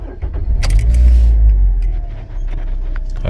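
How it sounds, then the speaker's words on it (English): A Toyota Corolla engine, showing a steering angle sensor fault, cranks and starts with a strong low rumble that settles into a steady idle, heard up close with no talking. "because when you start the car,"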